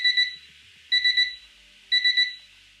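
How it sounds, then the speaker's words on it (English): A small gadget's built-in countdown timer alarm, rated up to 90 decibels, beeping loudly in three evenly spaced bursts of rapid triple beeps, clear and alone. "it also has a built-in alarm that is fairly loud, up to 90 decibels"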